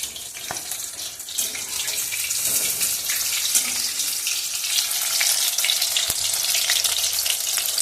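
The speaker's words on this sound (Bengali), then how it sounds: "আর এদিকে হচ্ছে আমুদি ফ্রাই, মুচমুচে আমুদি ফ্রাই" Amudi fish fry crisply in hot oil with a loud, continuous close sizzle, broken by occasional sharp clicks and clatters from the pan; no voices.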